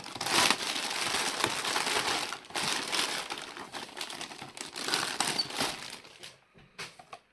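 Continuous crinkling and rustling of a plastic packaging bag holding a Hot Wheels BMW M5 model car, handled up close, dense crackly texture that thins out and stops near the end.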